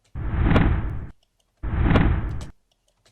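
Two reversed whooshing swells, each rising in noise and cutting off abruptly, separated by a short silence.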